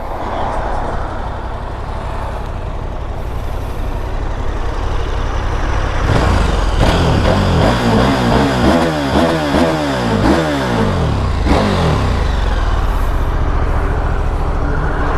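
A KTM 1290 Super Adventure S motorcycle being ridden, steady wind-buffeted engine drone that surges into loud revving with rising and falling pitch sweeps through gear changes, close and continuous with no talking.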